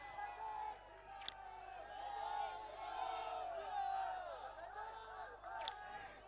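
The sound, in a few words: crowd cheering welcoming politician at rally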